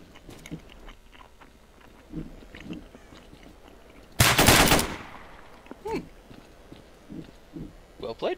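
Pistol fire in the S.T.A.L.K.E.R. Call of Chernobyl shooter, one loud sharp burst standing out midway amid quiet ambience, with someone talking intermittently before and after.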